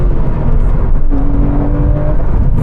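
A Porsche 996 GT3 engine roars loudly and close, a dense steady rasp with a brief pitch drop and recovery as the gear changes mid-pull.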